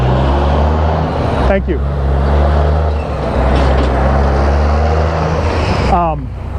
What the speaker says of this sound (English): it's going to be a big truck drive-by, so I'll be competing with him for a few seconds